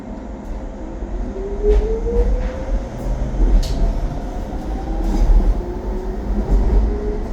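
A London DLR train running toward Beckton, heard from inside: a steady low rumble of wheels with rising and falling motor whine, occasional clicks over rail joints, moderately loud throughout.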